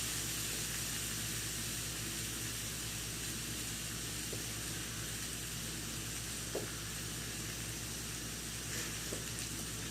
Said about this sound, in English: They're getting nice and browned up.